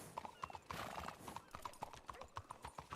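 In a Wild West video game, a horse clops along at a steady trotting rhythm and gives a brief whinny partway through. The sound is quiet and distant overall, and no one speaks.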